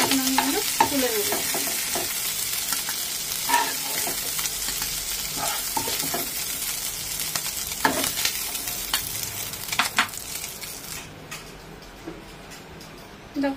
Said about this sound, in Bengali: আমার কিন্তু চিংড়ি মাছটা খুব সুন্দর লাল লাল করে ভাজা হয়ে গেছে